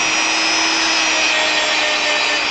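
Steady, continuous sanding on a Final Fantasy V model platform, a dense unbroken rasp with a faint hum underneath, close and fairly loud throughout with no talking.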